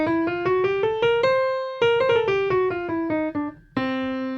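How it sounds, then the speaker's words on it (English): Piano runs up a blues mixolydian scale in clear, evenly spaced single notes, pauses briefly, then walks back down with ringing sustained tones, played solo with no talking. "This is kind of a mixture of two scales, and I call it the blues mixolydian."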